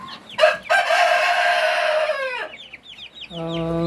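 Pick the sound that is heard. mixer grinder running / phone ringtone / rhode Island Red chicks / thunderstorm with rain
rhode Island Red chicks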